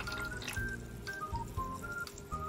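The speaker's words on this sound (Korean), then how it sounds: "물이 돌기 시작했습니다" Water trickles and gurgles steadily as a mini sump aquarium pump circulates it, a soft, close babbling flow with small dripping accents and faint whistling tones.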